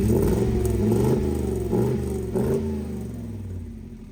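A custom-built truck with a 6.2 LS engine, Dana 80 axles and a custom chassis revs loudly and close, its deep rumbling idle swelling into several throttle blips before settling lower.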